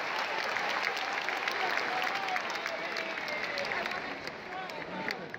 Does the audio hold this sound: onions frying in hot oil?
no